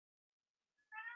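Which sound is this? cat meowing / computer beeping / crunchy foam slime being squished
cat meowing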